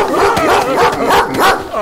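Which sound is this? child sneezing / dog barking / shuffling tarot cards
dog barking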